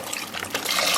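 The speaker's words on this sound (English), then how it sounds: "Now I'm going to go ahead and add my 4 cups or the entire box of my bone broth, and then 4 cups of water." Bone broth and water pour into a cooking pot with an even, close, splashing gurgle that grows slightly fuller over one brief second.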